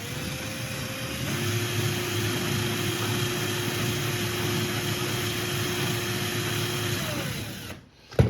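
A 3D printed shredder runs steadily at higher speed, a continuous whining motor drone with a constant pitch that holds for several seconds before cutting off abruptly near the end.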